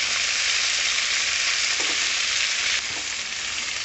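Washed mint leaves fry in a pan for a pudina chutney, giving a loud, continuous close-up sizzle that holds steady, easing slightly near the end.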